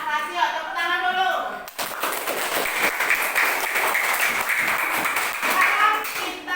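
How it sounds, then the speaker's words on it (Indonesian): A classroom of students breaks into applause after a short stretch of children's voices, dense clapping that carries on steadily to the end. "Tepuk tangan dulu."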